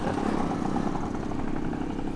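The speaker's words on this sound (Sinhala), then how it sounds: "මනුස්සයගේ මෝටර් බයික් එකේ මොකක් හරි ආබාධයක් වගේනේ." A faulty motorbike engine runs close by, giving a steady, dense, clattering idle with a rough rhythmic pulse throughout and no voices.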